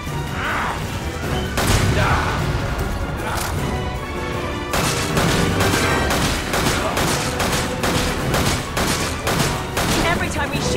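Gunfire in Resident Evil 5 comes as rapid, loud bursts of shots with crashing impacts over a constant combat din, heavy and close throughout.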